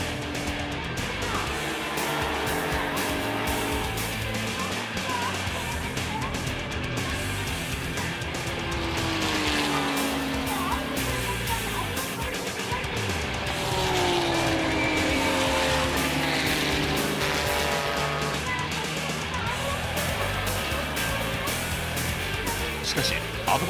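JGTC race cars, among them the ADVAN Porsche and a Skyline, roar past with engines revving up and down over a long stretch, loud and continuous, under excited commentary.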